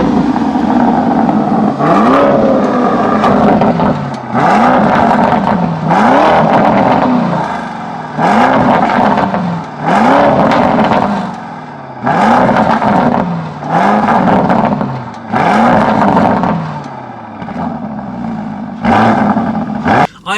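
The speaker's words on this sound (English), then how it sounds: "I think it's actually time to give you some revs so you can actually hear this thing" Lamborghini Urus SUV engine in sport mode revved repeatedly in loud, close bursts, each rise and fall of the engine pitch clearly separated by brief drops, about eight revs in a row with no talking.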